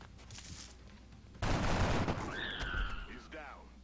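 Gunfire from a turn-based tactical game. A sudden loud burst of shots is followed by ringing, whining tail effects and a brief rising electronic tone, all close and clear, with quiet game ambience before it.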